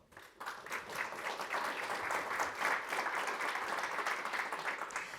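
Audience applause for the jury at the Prémios Empreendedor XXI award ceremony in Lisbon, dense steady clapping from a sizeable crowd that starts abruptly and holds at an even level throughout, without any talk over it.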